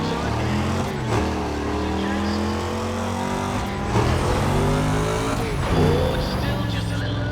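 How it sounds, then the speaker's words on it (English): Car engines roar together at a race start in Need for Speed: ProStreet, a steady loud droning rumble with rising revs throughout, while a voice talks over it. "there's the roar of the engines."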